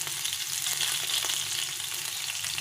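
Chopped garlic fries in white cooking oil in a pan on lowered heat, giving a steady, close sizzle with a crackling hiss that holds evenly throughout, with no one talking.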